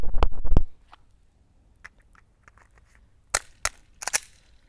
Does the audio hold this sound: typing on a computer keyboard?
no